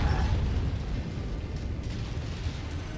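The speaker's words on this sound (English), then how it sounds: "This is how you do missiles." Missiles firing and exploding in the mech combat game Mechwarrior 5: Mercenaries, a dense rumbling roar of launches and blasts that stays loud and continuous for the whole stretch, with no voice over it.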